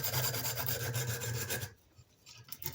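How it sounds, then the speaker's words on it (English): A screwdriver ferrule is rubbed with 150 grit sandpaper in a rapid back-and-forth rasp, close and steady for over a second before stopping, leaving quiet faint rustling. "I'm going to do 150 grit on the ferrule"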